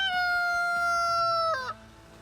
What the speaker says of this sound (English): Then ask yourself if you're prepared for his crowing for the next several years.